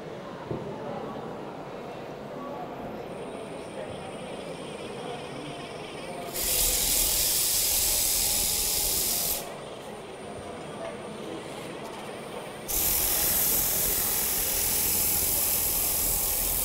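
Two long bursts of loud broadband hissing friction, each lasting several seconds, rise over a steady mechanical hum, like sandpaper pressed against spinning wood.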